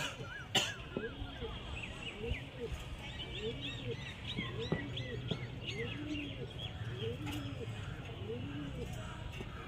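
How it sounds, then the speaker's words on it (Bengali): Giribaz and Madrasi pigeons flock together during flying training in Beldanga, Murshidabad, giving repeated soft coos and chirpy calls throughout, fairly close and steady over a low background hum, with one sharp knock early on. "দেখতে পাচ্ছেন পায়রাগুলো একসঙ্গে আছে সমস্ত পায়রাগুলো"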